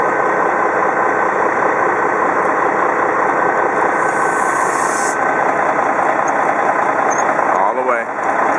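A fire engine runs with its pump engaged during deck gun training, a loud, steady engine drone throughout with a voice talking over it.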